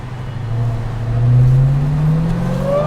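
A Dodge SRT Hellcat Redeye rated at 797 horsepower revs and accelerates, a loud deep engine roar that climbs in pitch as it pulls, heard from up close inside the car.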